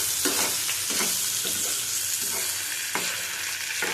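Pointed gourd (potol) pieces frying in oil, a steady close sizzle broken by several scraping stirs of a spatula through the pan, with no talking.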